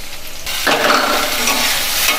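Washed red lentils tipped into hot oil with cumin seeds burst into a loud, close sizzle that starts abruptly and then holds steady, with no talking.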